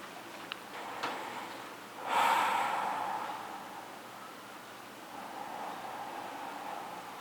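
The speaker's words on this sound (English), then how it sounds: "deep breath or two." A single deep breath taken during yoga practice, a soft airy inhale-exhale swelling briefly then fading, quiet and close over faint room noise.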